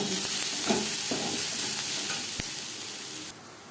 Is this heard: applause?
no